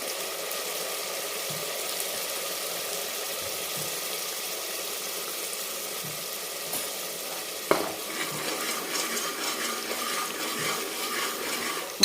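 Green chili masala with turmeric being sautéed in oil for a grandmother-style mutton curry, a steady close sizzle with soft stirring scrapes and one sharp clink of a utensil against the pan partway through.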